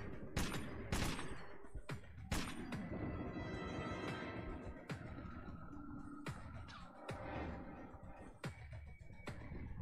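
Gunfire in the video game Metro 2033 Redux: several sharp, loud shots at irregular intervals, some close together, over a dense, rumbling game background.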